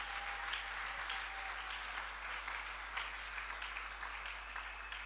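A church congregation applauding in a steady, dense wash of clapping that holds at an even level throughout, heard from a distance and slightly muffled.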